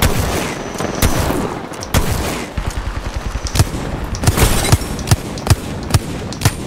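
Gunfire in Apex Legends: a dense clatter of rapid shots, then a string of sharp, loud individual cracks spaced at irregular intervals, close and forceful.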